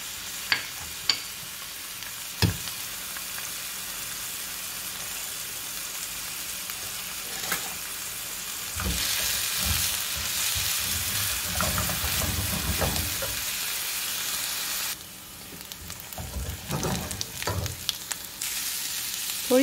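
Chopped onion fries and sizzles in a pan for kala chana chaat, with a steady hiss broken by stirring scrapes and clatters, loudest in the middle and again near the end, with no talk.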